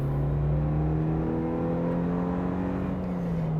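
A Suzuki Jimny Lite engine revs in second gear at around 50 km/h, a close, steady droning hum with a clear pitch that slowly rises as it accelerates.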